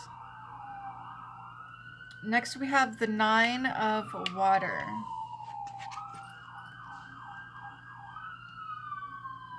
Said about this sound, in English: I live by a hospital, guys, so you will hear sirens.